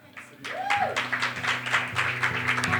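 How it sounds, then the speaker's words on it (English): Applause from a conference audience for a youth banking panel, a steady wash of clapping rising after a brief sliding tone, with background music or hum underneath. "Give them a round of applause, guys."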